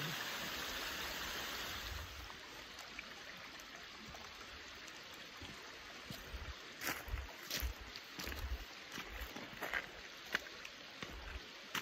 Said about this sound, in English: Here's a lovely little stream that comes out of the Breakneck Ponds